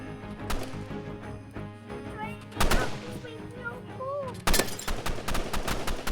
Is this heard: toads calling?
no